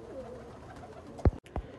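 Pigeons of an old Sialkoti breed in a breeder's loft: soft, low cooing, then two short muffled thumps that may be wing flaps or movement, heard close and quiet with no talk.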